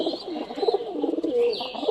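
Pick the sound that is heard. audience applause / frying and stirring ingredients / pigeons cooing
pigeons cooing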